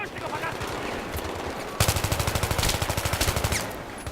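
Battlefield 3 gunfire: scattered shots at first, then a loud, rapid automatic burst of evenly spaced rounds lasting a couple of seconds, with a player's voice faintly underneath.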